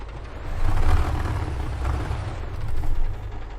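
A Kamaz 5460 truck in Euro Truck Simulator 2 revs its engine as a steady, heavy low rumble that swells and eases over a few seconds, with no talk over it.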